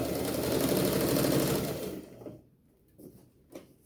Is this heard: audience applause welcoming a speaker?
no